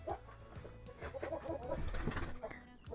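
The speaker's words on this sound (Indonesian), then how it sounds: "Nah, ini ayam Indio Gigante." An Indio Gigante chicken in a galvanized cage gives soft, low clucks at close range over a steady background.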